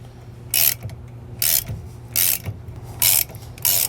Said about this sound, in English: So grab our socket and start to tighten this down.